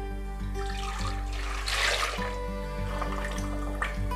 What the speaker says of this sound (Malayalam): ഇത് നമുക്കൊരു പാത്രത്തിലേക്ക് മാറ്റിക്കൊടുക്കാം.